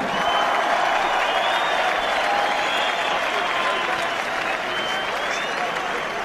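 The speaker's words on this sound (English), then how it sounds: "a round of applause for the talented and the gallant Kevin Mitchell" A large boxing crowd applauds loudly and steadily for a fighter being introduced, with some cheering mixed in, the clapping sustained throughout without pause.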